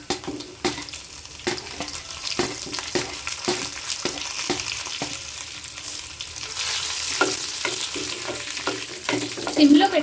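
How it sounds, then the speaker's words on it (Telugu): Dried red chillies fry in hot oil for a drumstick leaf chutney, a continuous loud sizzle with regular scraping and tapping strokes of a ladle in the pan, close and alone without talking. "నూనె హీట్ ఎక్కింది కదా, ఇప్పుడు ఎండుమిరపకాయలు వేసి వేయించుకుందాం."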